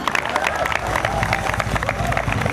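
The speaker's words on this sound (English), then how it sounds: "Please give a big round of applause for Mr. Johnny Arcilla." Audience applause and cheering at the ITF Commitment Award presentation during the 2013 Davis Cup tie between the Philippines and New Zealand: dense, continuous clapping from a crowd, steady and fairly loud throughout, with scattered voices mixed in.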